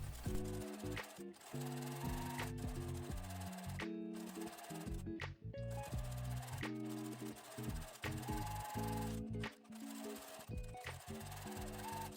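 A sewing machine stitches a pocket piece onto a jumper skirt front, 3 mm from the edge, with a steady mechanical whir that stops and restarts in short bursts.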